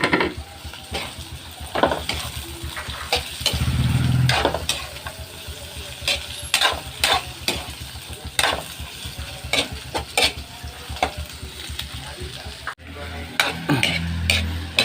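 Miki noodles and carrots sautéed in a pan, with steady sizzling under repeated clinks and scrapes of a utensil against the pan, plus a brief louder hiss partway through.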